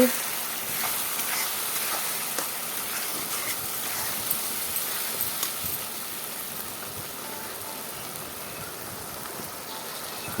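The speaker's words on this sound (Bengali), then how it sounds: "এখন মশলাগুলো কষিয়ে নিই" Spices sizzle steadily in a pan while being cooked down for an onion and rohu fish chorchori, a constant broadband hiss with faint stirring clicks throughout, fairly quiet and close, with no talk.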